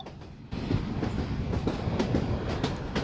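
The Dolonchapa Express passenger train rolls along the rails in Bangladesh between Kaunia and Badarganj, with a loud, steady rumble and rhythmic clickety-clack of wheels heard from on board.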